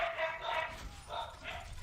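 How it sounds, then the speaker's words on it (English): Dogs bark and yip in the background during a team voice chat over an online shooter match, with several short bursts repeating across a couple of seconds while someone talks over them. "Dogs, shut the fuck up."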